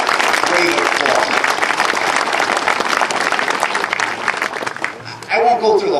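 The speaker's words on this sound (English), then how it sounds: "Please give them a great applause." Loud, dense applause from an outdoor crowd at a statue dedication, steady for about five seconds before a voice over the speakers takes over.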